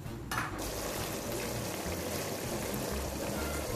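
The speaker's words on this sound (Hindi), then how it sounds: "मैं इसे पानी ड्रेन करती हूँ।" A steady rushing stream of water pouring and draining out of boiled rice, continuous and fairly close, with no speech.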